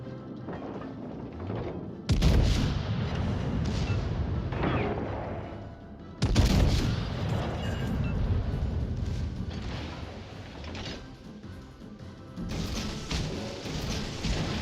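Warship cannons firing in the naval game World of Warships: Legends, three heavy booming salvos a few seconds apart, each followed by rumbling decay over a continuous bed of engine and sea noise.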